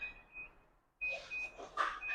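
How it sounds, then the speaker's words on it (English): An oven timer beeps in a steady series of high, evenly spaced tones, briefly pausing before resuming, heard clearly over faint kitchen background noise. "Okay, so there goes the timer."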